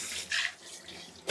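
Glasses and a lunch box are washed under a running kitchen tap in a short, faint burst of splashing water, with no voices.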